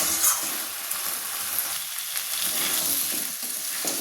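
Jackfruit and prawn curry sizzles and spits steadily in a hot pan while being sautéed, with the occasional scrape of stirring; close and continuous, no voices.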